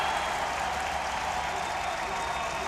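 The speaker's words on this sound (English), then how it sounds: "Their crowd is so loud to our right" Czech Republic fans cheer and clap at a World Baseball Classic game against China, making a steady wash of crowd noise. Commentary can be heard over it.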